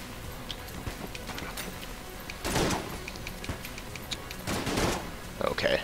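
Video game gunfire as enemies are cut down, two loud blasts several seconds apart with a sharp burst at the end, over steady game background noise.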